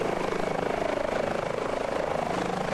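An Airbus H145 helicopter in Microsoft Flight Simulator flies with a steady, close rotor drone and engine whine, holding constant without pause.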